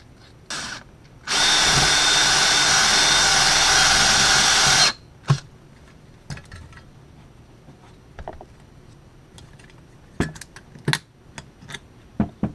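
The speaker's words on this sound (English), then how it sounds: "Drilled the rivet head off" A power drill bores through the head of a rivet on a dumpster-salvaged lantern, a loud steady whine lasting several seconds after a brief start, followed by scattered clicks and metal handling noises.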